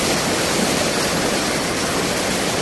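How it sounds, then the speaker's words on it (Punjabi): Water from the Sutlej rushes at full pressure through a brim-full canal at Ropar headworks, making a constant, loud, broadband roar that never lets up, with no voices. "ਨਹਿਰ ਸ਼ਰੇਨ ਦੇ ਵਿੱਚ ਪੂਰਾ ਪਾਣੀ ਛੱਡਿਆ ਹੋਇਆ ਪੂਰੇ ਪ੍ਰੈਸ਼ਰ ਦੇ ਵਿੱਚ ਪਾਣੀ ਜਾ ਰਿਹਾ"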